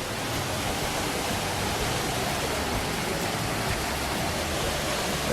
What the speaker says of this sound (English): This is another waterfall on the road to Hana.